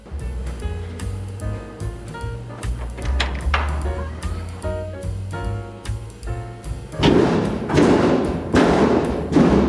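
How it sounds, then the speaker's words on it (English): Someone strikes the metal body of a washing machine, producing a series of loud, hollow booming thuds and clanks at irregular intervals, resonant and close, growing heavier toward the end. "Turns out washing machines can sound a lot like air vents if you hit them right."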